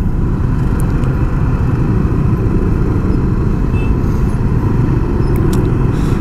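Jakarta rush-hour traffic jam heard from inside or beside a vehicle: a steady, loud low rumble of idling and crawling cars and motorcycles, with no breaks and occasional faint higher noises on top.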